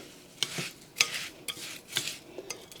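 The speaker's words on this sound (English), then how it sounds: "to mix up your Rice Krispies in the mixture" A spoon stirs Rice Krispies into a chocolate mixture in a bowl, making soft crunchy scrapes and clinks in an irregular rhythm of about six strokes, close and fairly quiet, with no talk.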